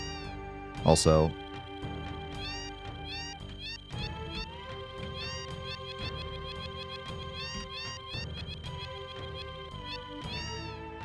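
A cat in the Final Fantasy VII video game meows in a rapid, machine-gun string of repeated calls, loud and close, while a person talks over parts of it.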